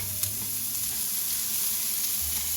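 Beans frying in a pan while being stirred give off a steady, close sizzle that runs the whole time, with soft scraping and shuffling under the hiss and no one talking.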